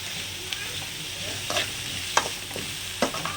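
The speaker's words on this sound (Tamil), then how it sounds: "நல்லா வதங்கட்டும் வெங்காயம்" Onions sizzle and fry steadily in a hot pan while being stirred, with scraping strokes now and then, for a Tamil-style goat blood stir-fry; no voices.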